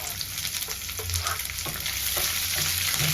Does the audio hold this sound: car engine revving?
no